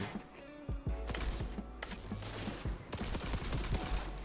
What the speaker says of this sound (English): This is our tech weapon.